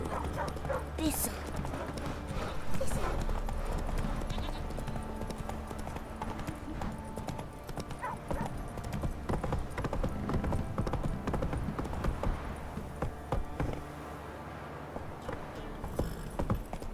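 Horse hooves clip-clop at a gallop in the video game The Witcher 3, a steady rapid pounding heard throughout under game music, ambient effects and a voice.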